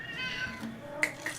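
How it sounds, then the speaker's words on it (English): A house cat meows indoors, a short close call with one louder rising cry near the end, heard alone without talk. "That's my cat."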